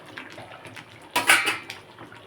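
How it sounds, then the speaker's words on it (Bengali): A spoon scrapes and stirs chicken rezala in a metal pot, a few soft clinks followed by one louder scraping clatter, close and alone. "এটা ভালোভাবে একটু একটু করে তলায় দিয়ে নাড়তে হবে"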